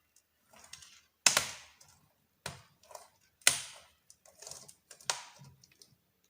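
A laptop keyboard being pressed into place onto the body, giving a series of sharp plastic clicks and snaps in irregular bursts, fairly close and with no talking.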